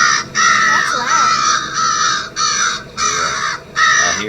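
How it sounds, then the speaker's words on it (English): Several crows caw loudly and repeatedly near a wild turkey nest, in bursts of harsh calls, with wind buffeting a trail camera in the background. "so it's not just one crow."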